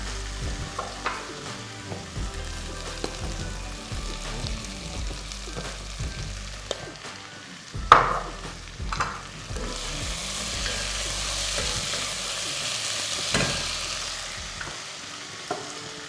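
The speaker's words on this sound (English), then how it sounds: "Give it a big stir." Beef stir fry with a splash of soy sauce tossed and stirred in a hot pan: continuous frying sizzle, repeated scraping and clattering of the utensil, one louder knock midway, with soft music beneath.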